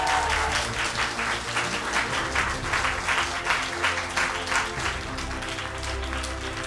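An audience applauds at a televised gala concert of a singing show, a steady wash of clapping that fills the hall at moderate distance for several seconds.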